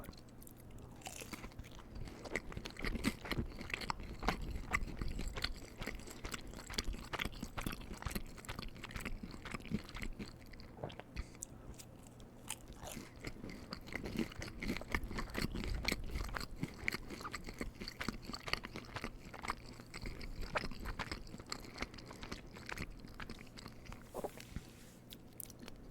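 Someone eats taquitos up close, with continuous crunching bites and wet chewing throughout, soft and intimate, with no talk.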